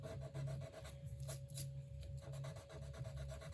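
A sand eraser scrubs ink off a paper Christmas card in quick, rhythmic back-and-forth strokes, close and dry with a gritty rasp, and no one speaks.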